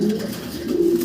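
A Mili-bar exhibition pair of pigeons in Mili colour gives a low, throaty coo that rises and swells across about a second, heard close against faint background noise.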